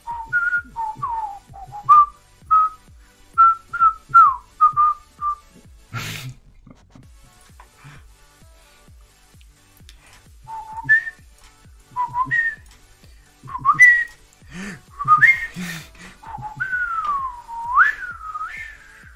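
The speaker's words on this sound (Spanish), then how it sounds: "3 minutos hablando con el Silbo Gomero." Silbo Gomero, the whistled language of La Gomera, carried by a series of sharp, gliding whistles in short phrases, a pause, then longer rising and falling whistled contours with a faint rhythmic tapping beneath.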